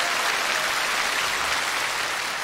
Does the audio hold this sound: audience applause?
yes